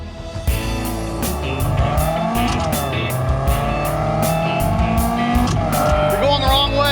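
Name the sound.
Ford race car driving on track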